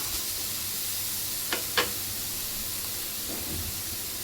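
Onion roasting in a pan until reddish, a steady soft sizzle throughout with two brief sharper crackles near the middle and a faint stirring scrape afterward.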